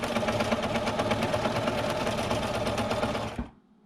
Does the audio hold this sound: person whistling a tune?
no